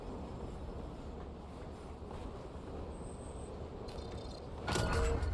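Train rolling along in the Warzone video game, a steady low rumble of wheels and carriage noise throughout, with a brief high tone midway and a louder clattering burst near the end.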